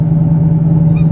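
A Dodge Challenger Hellcat's V8 holds a loud, steady low rumble under throttle, heard from inside the car, with a constant deep drone and little change in pitch.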